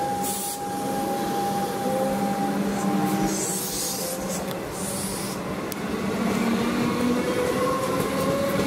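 A Siemens train on the Melbourne Metro approaches Seddon station, with a loud steady rumble, rolling rail noise, high tonal whine from the motors and occasional squeals building and holding close by.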